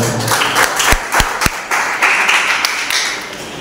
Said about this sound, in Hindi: आइए उस पवित्र परमेश्वर के लिए एक बार जोरदार तालियां हो।